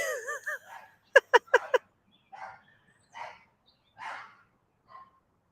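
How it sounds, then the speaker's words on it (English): A quick burst of four sharp dog barks, then several scattered yips and barks at moderate distance, with a voice speaking briefly at the start. "those dogs have got to stop barking"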